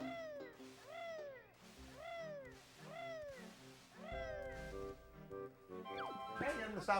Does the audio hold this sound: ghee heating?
no